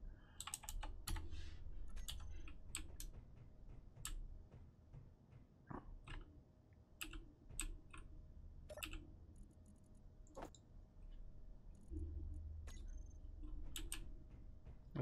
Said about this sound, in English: Having difficulties typing.